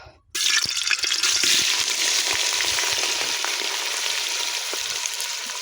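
Meat for bhindi gosht starts frying in a pan with a sudden loud sizzle that stays steady and close, with faint stirring clicks underneath.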